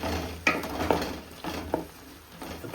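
Tomato and onion frying in a pan for an egg chicken curry, soft sizzle with a few spoon scrapes and stirring knocks spaced out, close but quiet.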